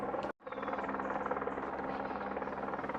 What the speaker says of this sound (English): All I can hear right now is that helicopter above my head.